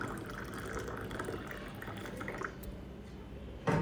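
Water poured into a vessel at home, a steady liquid wash that runs the whole time, fairly close, with a short sharp clatter near the end.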